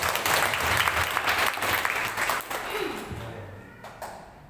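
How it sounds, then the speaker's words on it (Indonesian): Congregation applause at a Baptist church service, a dense wash of many hands clapping that swells loudly and then gradually thins and fades toward the end. "Kalau ini tepuk tangan yang mulia."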